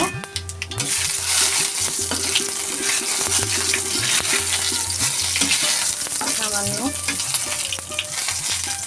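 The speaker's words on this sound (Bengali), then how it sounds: "শুকনো লঙ্কা তেজপাতা এখন ফোড়নটা একটু ভেজে নেব" Whole cumin, dried red chillies and bay leaf sizzle as a tempering in hot oil for a jute-leaf and matar dal, a close, steady frying hiss with light stirring clatter throughout.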